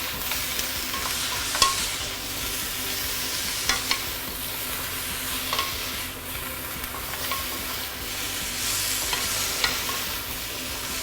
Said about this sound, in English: just to give it a few stir